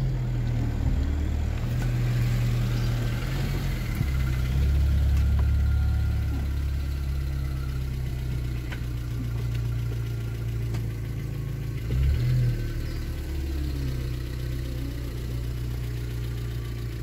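A 2007 Tata Indica 1.4i petrol car engine hums steadily while driving, a low continuous drone with slight swells and a couple of brief bumps, no voices over it.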